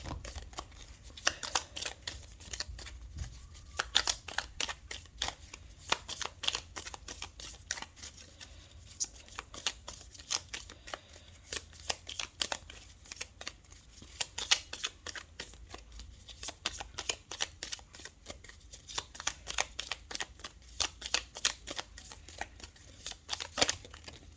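Petit Oracle de Gaïa oracle cards are shuffled by hand in a long run of crisp, rapid riffling flutters and soft slaps that come in quick bursts throughout, close and moderately quiet, with no talking.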